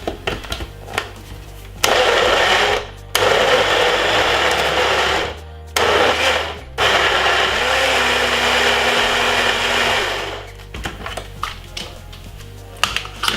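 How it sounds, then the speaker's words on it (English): Countertop blender whirring loudly as it blends fresh apple chunks with a little water for juice, in several loud bursts of a few seconds each separated by short stops, close up with no talking. "And blend it for about 4 to 5 seconds."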